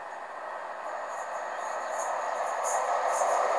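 A steady rumbling hum from a passing train, locomotive 90011 through Needham Market station, rises slowly in loudness, with faint squeals and clatter overhead, heard at a moderate distance.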